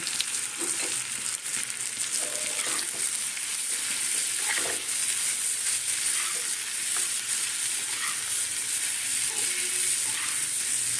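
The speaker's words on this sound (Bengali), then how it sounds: "মশলাটা দিয়ে দু দু চারবার নাড়া দিলাম" A roasted spice mix is stirred into amla pickle in a pan, and it sizzles and fries steadily while a spoon scrapes and turns the mixture several times.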